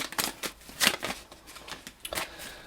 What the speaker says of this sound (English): I bent my cards so bad they don't shuffle very good anymore.